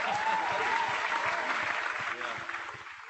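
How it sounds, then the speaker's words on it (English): A tavern crowd gives a round of applause, a dense, steady wash of many hands clapping together that tapers off slightly toward the end. "Let's have a nice round of applause for Mr. Shane Moore, everybody."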